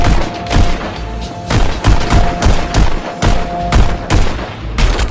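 Pistol shots ring out in the VR shooting game Pistol Whip, loud and close in a rapid, evenly paced series of sharp cracks, roughly ten in five seconds, with no talking.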